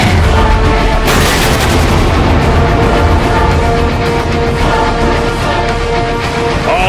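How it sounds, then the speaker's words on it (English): Sustained heavy artillery barrage in the Transformers: Fall of Cybertron video game, firing at tow cables: dense, loud booms and blasts layered over a continuous roaring din with no gaps. "Direct all fire on those tow cables."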